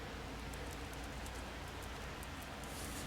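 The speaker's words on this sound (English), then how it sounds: "it's raining" Steady rain falls over a garden, a soft, even hiss with faint scattered patter that holds unchanged throughout, no voices.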